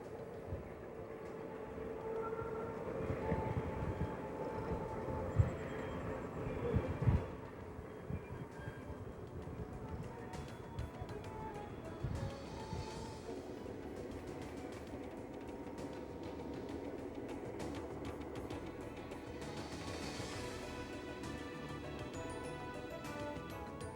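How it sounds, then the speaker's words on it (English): Three railroad locomotives roll past on the Albany Loops near the town of Albany, a low distant rumble with clanks and squeals that swells in the middle and then settles into a steady faint roar. "Here we catch the 3 locomotives passing the town of Albany"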